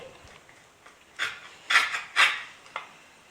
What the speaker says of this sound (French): Je découpe un petit rond. S'il n'est pas complètement coupé, je le finis au couteau.